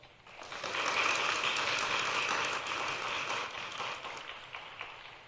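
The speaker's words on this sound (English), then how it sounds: "please welcome His Excellency William Lai, Vice President of the Republic of China, Taiwan, with a warm round of applause" A warm round of applause from a forum audience greets Taiwan's Vice President William Lai, swelling quickly from silence into a steady, fairly distant wash of clapping that holds and gradually thins.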